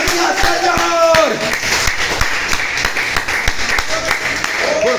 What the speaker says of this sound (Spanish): Den un aplauso al Señor en esta hora.